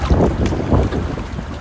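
Waves slap and rock a boat at night with its engine off, a close, loud rumbling wash with heavy wind buffeting, no voices.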